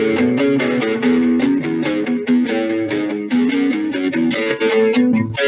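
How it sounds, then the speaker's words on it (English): An electric guitar with an added echo effect plays a steady, dense run of picked notes in a Stone Roses style, loud and continuous with no talking. "And then I might add in an echo, just which is more pronounced"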